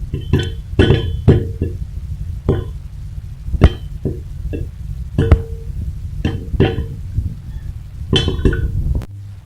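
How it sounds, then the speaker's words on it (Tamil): Sharp, irregular pops and knocks of popcorn inside a covered pot, a steady scattering of popping with a low background hiss. "பாப்கார்ன் ரெடி ஆகும்போது நமக்கு சத்தம் கேட்கும்."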